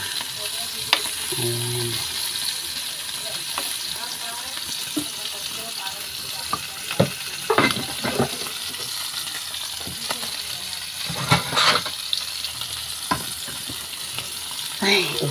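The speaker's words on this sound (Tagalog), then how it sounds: "Tatlong pirasong tuyo lang ang aking niluluto guys at tinapa" Three pieces of dried fish (tuyo) and smoked fish (tinapa) fry in a pan with a steady close sizzle, punctuated by spatula scrapes and clinks, and a voice speaks briefly.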